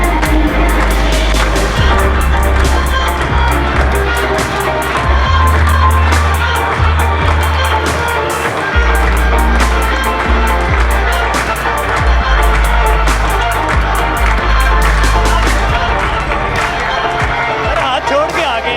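A large crowd at a celebration event in Mandi Bahauddin claps and cheers steadily, dense continuous applause filling the whole stretch with a loud low rumble and talk mixed in.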